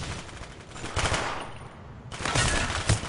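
Gunfire from a player in a PS3 shooter match, dense rattling bursts with a brief lull before firing resumes loudly, layered over game noise.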